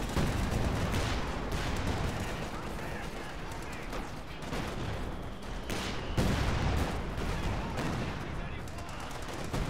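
Katyusha rocket artillery barrage in Company of Heroes 2, a dense rolling series of loud explosive impacts and crackling blasts over the battlefield with game gunfire mixed in.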